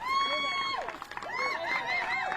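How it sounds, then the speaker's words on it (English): Crowd at a disc golf tournament cheering, with rising whoops and shouts from spectators at a moderate distance, several voices overlapping in excited swells. "They know who's throwing, and you can hear them already celebrating her"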